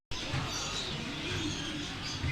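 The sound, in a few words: birds in a mall pet section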